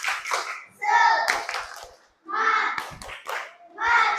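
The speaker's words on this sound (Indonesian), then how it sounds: "Tepuk semangat." Children perform a rhythmic spirit clap (tepuk semangat) in a classroom, with bursts of patterned clapping and chanted voices in several loud phrases separated by short pauses.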